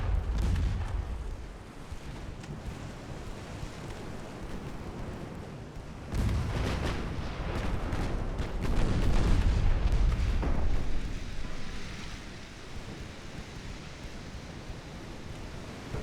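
Heavy 7-inch naval guns fire in Ultimate Admiral Dreadnoughts, a deep rumbling boom opening the clip and a second, longer roaring blast around the middle, each trailing off into a low steady battle drone.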